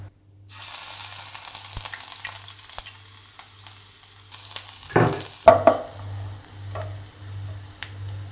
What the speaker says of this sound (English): Once the oil is heated up, I'm going to add the ginger garlic paste